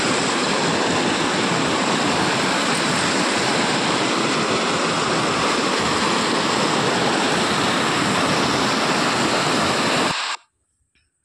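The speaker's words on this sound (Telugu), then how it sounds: "వాటర్ ఫ్లో చూపిస్తాను చూడండి." Heavy water gushing at a village Shiva temple, a loud, dense, unbroken roar of rushing flow that fills the scene for about ten seconds before cutting off abruptly.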